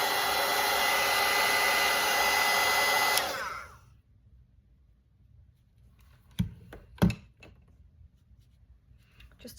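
Hair dryer blowing steadily at close range to dry a loose watercolor floral painting on a greeting card, then switching off, followed by a couple of sharp knocks in the quiet.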